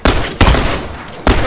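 Two loud, close shotgun blasts in the video game The Last of Us online multiplayer, each a heavy boom with a trailing rumble, separated by about a second.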